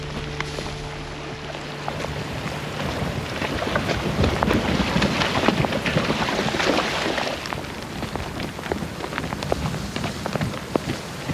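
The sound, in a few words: rain in the Snowy Mountains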